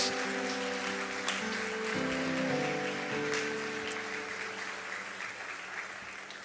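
Church congregation applauding after a call to praise God, a steady wash of many hands clapping with a sustained musical tone underneath, fairly even in loudness throughout.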